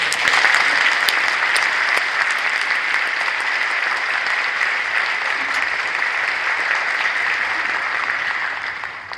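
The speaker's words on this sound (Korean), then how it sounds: "박수 한번 주시죠" Sustained applause from a large church congregation at an Easter service, steady and full throughout, fading slightly at the very end.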